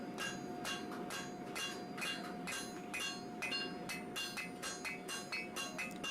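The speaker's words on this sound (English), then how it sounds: "he's coming in at an angle with the hammer, and I'm holding it at an angle on the forge" Blacksmith hammering steel at an angle on the forge while drawing out the point of a Bowie knife, a steady series of sharp metallic strikes with bright ringing over a constant background hum, fairly quiet and distant.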